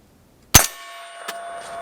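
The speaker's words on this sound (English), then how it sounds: "There's a little bit of ringing going on, but that is the flash hider in here" A sharp metallic clang strikes once, then a thin ringing tone from a gun's flash hider lingers and slowly fades, with a second faint tap partway through.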